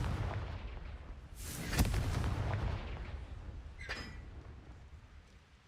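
In the Hogwarts Legacy wizarding game, the Confringo fire spell erupts as a sharp, loud blast with a booming low tail, followed a couple of seconds later by a second, fainter crackling burst.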